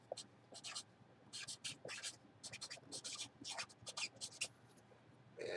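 Pen scratching as someone writes on a hockey card box, a string of short scratchy strokes close up, with talking underneath.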